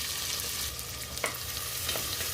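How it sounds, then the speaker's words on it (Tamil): Onion fries in hot oil and ghee with bay leaf, cinnamon, cloves and cumin, giving a steady, moderately quiet sizzle with a couple of brief stirring scrapes. "வெங்காயம் நல்லா வதங்கட்டும்"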